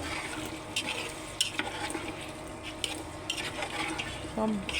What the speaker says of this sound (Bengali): এখন আমি ভালোভাবে কষিয়ে তারপর আবার কষিয়ে নেব